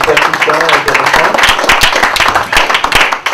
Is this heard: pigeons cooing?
no